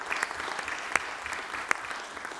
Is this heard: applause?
yes